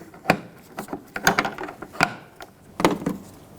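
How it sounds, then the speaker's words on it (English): A plastic trim tool pries a plastic rear bumper trim piece off a 2013-2020 Nissan Pathfinder, giving a handful of sharp, close snaps and clicks at irregular intervals with quiet scraping in between. "I'm going to pop this trim piece off, take a plastic trim tool, and pry it away"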